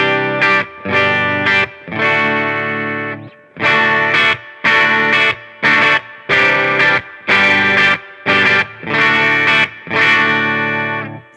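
A Teran T-N3 Slim electric guitar played through its bridge pickup with a 250K pot, loud distorted chords struck in short repeated bursts with brief gaps, no voices.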